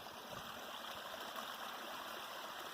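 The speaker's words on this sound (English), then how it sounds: "This little stream is running pretty nicely." A small brook runs beneath a little footbridge on an old farm site, its water babbling and trickling in a steady, gentle wash with no voices, heard from close by.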